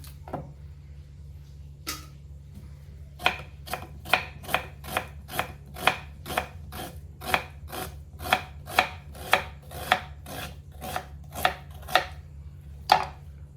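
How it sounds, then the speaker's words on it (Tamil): Two onions being chopped finely with a knife on a board, a steady series of about twenty sharp taps speeding up into an even rhythm, close and clear over a low steady hum. "இப்போது இதை ரொம்ப சின்ன சின்னதாக சாப் பண்ணி எடுத்துக்கலாம்."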